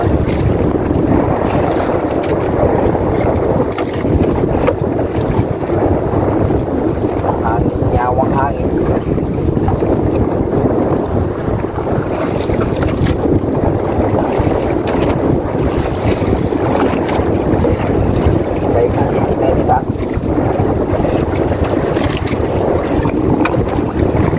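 A traditional Filipino fishing boat motors through strong wind at sea, its engine a steady low drone buried under loud, continuous wind buffeting and water noise, with faint voices now and then.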